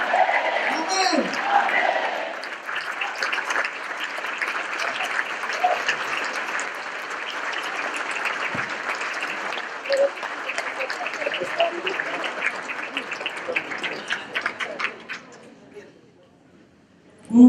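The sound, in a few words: congregation applauding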